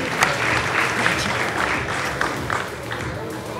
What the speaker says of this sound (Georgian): აპლოდისმენტები მეგობრებო